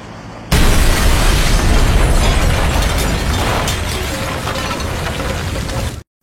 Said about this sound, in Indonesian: tiba-tiba ledakan besar terjadi